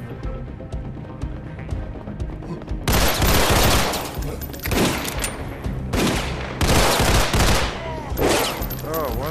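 Video game gunfire in repeated loud bursts of rapid, automatic-sounding shots, broken by brief pauses, over a low background hum.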